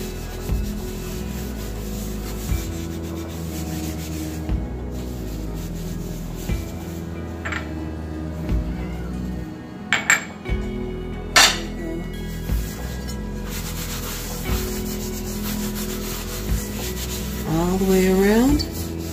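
Oil is rubbed over a Smithey cast iron skillet, front and back, in soft scraping strokes with a few light clinks, over steady background music.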